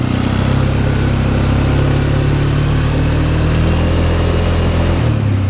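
A Polaris ATV fitted with a snow plow runs slowly in low gear, its engine a loud, close, steady droning rumble that shifts slightly in pitch near the end.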